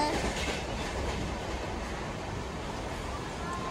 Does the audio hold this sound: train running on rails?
yes